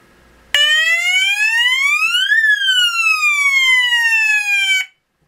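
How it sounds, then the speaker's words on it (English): A loud home security alarm siren, part of a laser trip wire system, wails alone for about four seconds with one pitch sweep rising and then falling before cutting off abruptly. "You'll hear the alarm; it's very loud"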